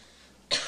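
A boy gives a single short, sharp cough that bursts out abruptly after a stretch of quiet room tone.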